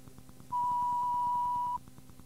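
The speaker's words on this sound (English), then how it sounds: "Here's the beep." A single steady electronic beep from a 1987 answering machine lasting just over a second, clear and close, over faint rhythmic background music.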